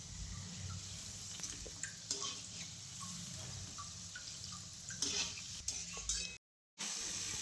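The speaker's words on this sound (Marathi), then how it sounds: "तर आता इथं शंकरपाळ्याची शेवटची बॅच तळायला चालू आहे." Shankarpali sweets frying in a batch of hot oil, a steady close crackling sizzle with stirring and occasional light clinks, briefly cut to silence near the end.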